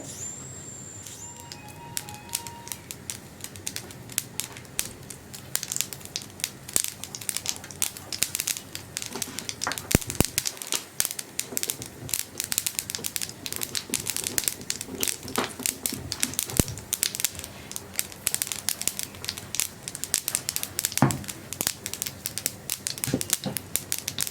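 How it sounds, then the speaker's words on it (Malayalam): Mustard seeds pop and crackle in hot oil, a dense, irregular stream of sharp little snaps close by, continuing steadily without any talking. "കടുക് ഒന്ന് പൊട്ടി വരട്ടെ"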